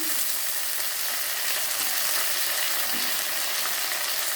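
Green tomatoes sizzle and fry in a hot pan, a steady, dense crackle that fills the whole stretch with no voices over it.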